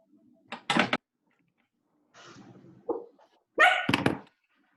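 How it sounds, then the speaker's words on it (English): A dog in an indoor room gives several sharp barks and yips in short separate bursts with quiet gaps between, close and fairly loud. "Let me just grab the dog."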